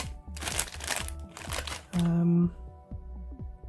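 Plastic bags from a High Grade 1/144 Gundam model kit are torn open and handled, with close crinkling and rustling bursts, while someone speaks over parts of it.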